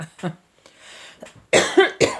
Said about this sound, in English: Kind of coughing